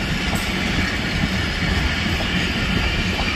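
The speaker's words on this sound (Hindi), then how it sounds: "एक तरफ जा रही है भाई शरदीप एक्सप्रेस" Shalimar Express passenger train passing through Dhabeji railway station at speed, a steady loud rolling roar of wheels and carriages filling the whole stretch without a break.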